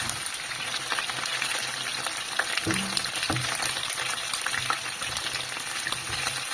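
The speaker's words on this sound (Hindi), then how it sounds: "अब इन्हें हम फ्राई कर रहे हैं।" Chili chicken pieces shallow-frying in ghee make a continuous close sizzle with bubbling crackle, broken by a few soft knocks as the pieces are turned, with no voices.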